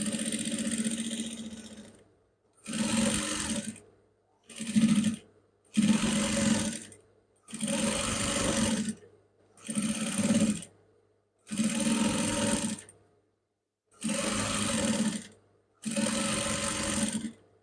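Home sewing machine stitching trouser fabric in about nine separate bursts of steady whirring, each a second or so long with short silent gaps between, close and fairly loud with no talk.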